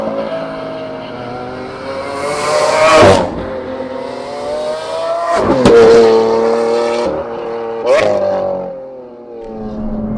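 Lamborghini Aventador Molto Veloce Roadster with a DMC body kit driving on the road, its engine loud and close, rising and falling through repeated revs and gear changes with sharp bursts between them.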